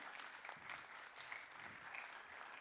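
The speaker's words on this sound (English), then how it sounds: "Please give her a round of applause." Steady applause from an audience, a dense patter of many hands clapping at an even level throughout.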